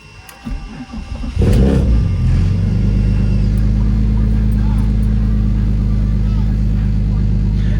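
A BMW E36 M3 engine cranks briefly on a cold start, then fires and roars up into a loud, deep, steady high idle that rumbles on close by.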